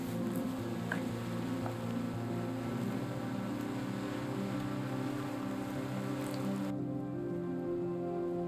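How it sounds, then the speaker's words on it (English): Rain pattering steadily at the Point of Ayre lighthouse, a continuous close soft patter over a low hum of wind and surroundings, with no voices, briefly thinning toward the end. "The rain's just arriving, so I want to try and get this done so I can scarper"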